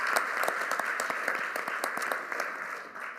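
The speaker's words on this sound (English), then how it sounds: "Let's give our kids a big round of applause." Steady round of audience applause at a school district State of Schools event in Philadelphia, many hands clapping at a moderate distance throughout, fairly even in level.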